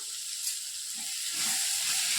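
Onions and tomatoes sautéing in a pan for semiya upma, a soft steady sizzle that grows slightly louder near the end, close and alone with no talk.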